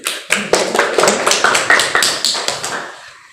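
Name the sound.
classroom applause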